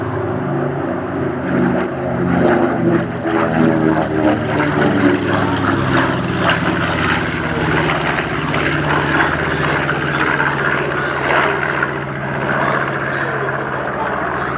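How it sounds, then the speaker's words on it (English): A twin-engine piston bomber like the B-25 Mitchell drones low overhead at an airshow, a loud continuous throbbing engine roar with slowly shifting pitch for about fifteen seconds, with faint talk beneath. "these twin-engine bombers like the Mitchell"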